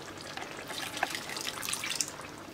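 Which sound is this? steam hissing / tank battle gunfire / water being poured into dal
water being poured into dal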